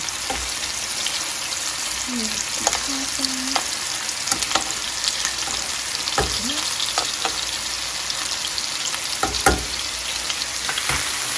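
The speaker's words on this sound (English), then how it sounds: "It's still getting that good cooked, but it's not frying my chicken." Steady sizzling of chicken frying in a pan for chicken tikka masala, a constant hiss with occasional clicks and scrapes of stirring, no talking.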